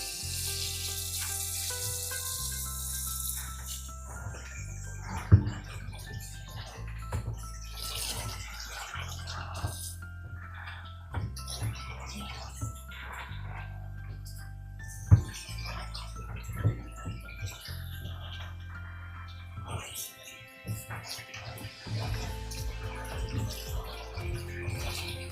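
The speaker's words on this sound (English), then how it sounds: "we're going to put the lettuce into the sink and we're going to rinse it. While we're rinsing it, we want to swish it around" Lettuce for hydroponic towers is rinsed and swished around in water in a sink. Soft, continuous splashing and sloshing runs throughout, with a few sharp clunks against the basin and no talking.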